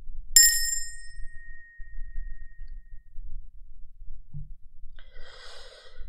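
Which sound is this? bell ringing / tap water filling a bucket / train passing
bell ringing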